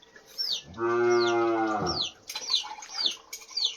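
One long, loud moo from a cow that is missing its mother, heard up close, with birds chirping repeatedly before and after it.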